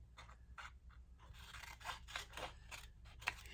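Scissors snip through scrapbook paper in a quiet run of short, close cuts, each with a crisp blade sound, spaced unevenly over a few seconds.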